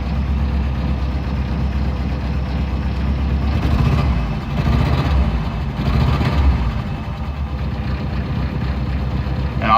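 A 1990 Jeep Wrangler YJ with a 2.5L four-cylinder engine, prone to stalling and losing power, idles with a steady, close, low rumble that swells slightly midway, with faint voices underneath.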